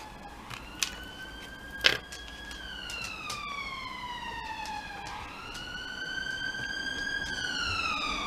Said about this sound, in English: ambulances fly by, left, right and centre